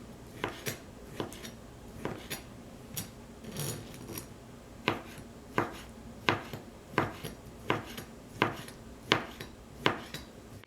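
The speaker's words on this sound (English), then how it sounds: "start slicing them very thinly. I slice them at an angle" A knife slicing bamboo shoots thinly at an angle on a board for Lao bamboo soup, sharp regular chops that come faster and more evenly in the second half, close and clear.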